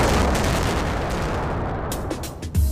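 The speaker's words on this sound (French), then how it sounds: "Les trous de forage sont ensuite remplis d'explosifs et reliés ensemble afin qu'ils sautent selon une séquence prédéterminée." Explosive charges set in drill holes in an open-pit mine go off in a sequenced blast, heard as a dense, rolling roar with several sharp reports near the end.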